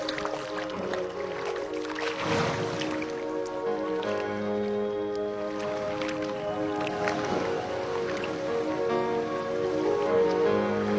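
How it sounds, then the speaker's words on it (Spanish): Rain begins falling over the Peruvian jungle, a steady, fairly loud wash of patter and drips that runs continuously with no voices over it. "repentinamente el día se oscurece y comienza a llover"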